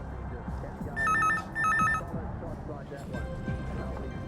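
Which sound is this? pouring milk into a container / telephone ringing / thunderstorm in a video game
telephone ringing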